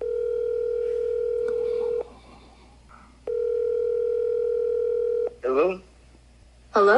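A steady telephone dial tone hums in two long stretches, broken by a short pause, while a voice briefly speaks near the end.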